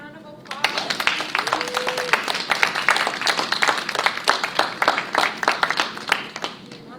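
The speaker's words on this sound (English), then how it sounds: "All right, well, give them a round of applause." An audience breaks into applause at the end of a panel discussion, and the clapping swells into a close, crackling wash that holds steady before thinning out near the end, with faint voices underneath.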